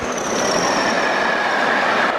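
A British Railways Class 40 diesel locomotive train passes at Little Bytham, a loud steady rumbling roar with a wailing engine tone and wheel noise, sustained throughout without speech.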